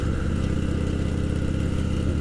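A group of motorcycles, including a KLR dual sport, a cruiser and a sportier bike, riding together; a loud continuous engine drone with wind rush, steady and close, with no voices.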